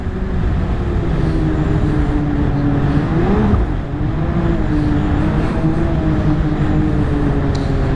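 Lynx XTerrain 900 Turbo R snowmobile running along a trail through rolling hills in Mont Valin, its engine a loud continuous roar with a slight rise and dip in pitch midway, heard close from the rider's position.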